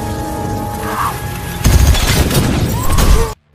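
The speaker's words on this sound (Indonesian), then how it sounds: "dengan cepat langsung menghabisinya sambil memecahkan jendela atap" Skylight window glass breaking during a game shootout: a loud crash and shatter lands midway, with sustained debris and rumble after over a steady background hum, ending abruptly.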